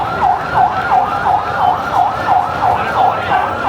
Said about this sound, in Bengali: অ্যাম্বুলেন্সের হর্নের শব্দ এখন যেন শাহবাগের প্রাত্যহিক ব্যাকগ্রাউন্ড মিউজিক।